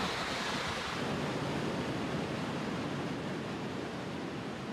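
A constant, broadband roar of rushing water at Victoria Falls on the Zambezi River, dense and steady without pauses, like heavy falling water heard from a moderate distance.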